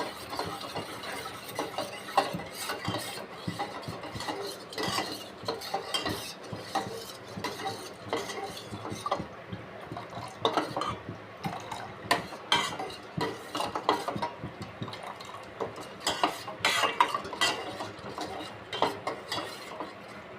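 Rice porridge (koozh) for a baby being stirred in a pot, giving a steady run of scraping, clicking utensil strokes against the metal, moderately loud and continuous with no talking.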